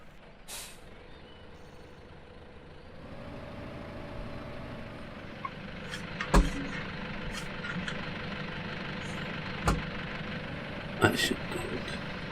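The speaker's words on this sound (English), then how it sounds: "Keep the engine running." A JCB digger's engine left idling on a farm ridge, a steady low rumble that picks up partway through and carries on under occasional sharp clanks and hisses.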